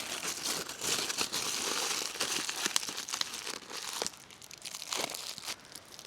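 Food wrapping is folded into a small package outdoors at a woodland campsite for cooking over a campfire, giving close, quiet, continuous crinkling and crunching with a few sharper rustles.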